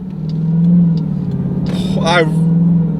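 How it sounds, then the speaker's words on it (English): Steady low engine drone of a 2021 Dodge Durango Hellcat on the road, with a rising and falling whistling whine near the end over the engine, close and fairly loud. "God, I hope you can hear that supercharger whine"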